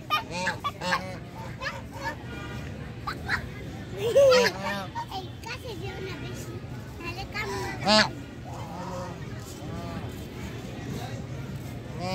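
Ducks quack amid children playing and adults talking, with honk-like calls rising briefly over a steady bed of voices; one voice also imitates the quacking.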